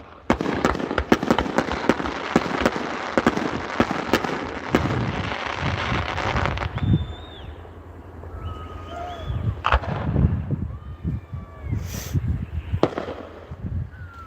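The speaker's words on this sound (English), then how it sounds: "They're not super big fireworks, but they're nice." Fireworks over South Manistique Lake in Curtis, Michigan, in the Upper Peninsula: dense rapid crackling and popping, then scattered whistles and separate booms echoing across the water.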